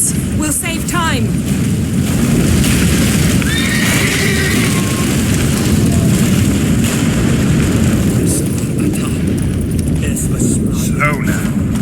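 Horse neighing in The Witcher 3, heard near the start and again near the end over a loud, continuous game soundscape of rumbling and crashing from a disintegrating ship, with brief voices.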